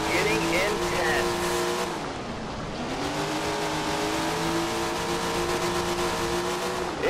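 Dirt track race cars roar around a track in a steady, loud engine drone, with revving and a passing swell near the two-second mark, while a voice talks over the racing.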